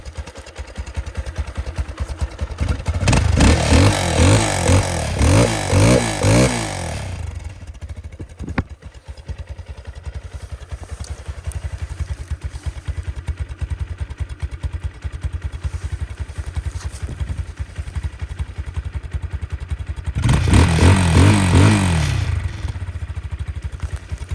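A new motorcycle engine runs while still cold and idles with a low, uneven clatter. Two loud revving bursts break in, one near the start and one near the end, and the idle goes on between them.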